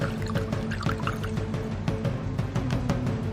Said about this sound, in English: take your water and your brush, shake it around in there